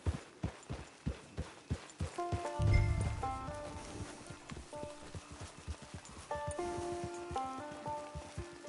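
Rhythmic hoofbeats of a galloping horse in the video game Red Dead Redemption 2, steady and close, with a brief rush of noise and soft musical tones underneath.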